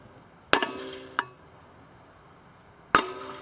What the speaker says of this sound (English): just a few little taps get this flywheel loose.